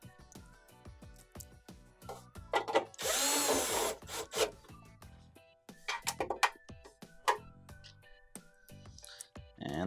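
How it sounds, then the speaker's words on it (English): A power drill drives 5/4 screws around the perimeter of a Whirlpool Swash dryer blower motor assembly, sounding as a series of short, loud whirring bursts with brief pauses and one longer sustained run, close up and alone. "we're going to go ahead and install our 5/4 screws around the perimeter"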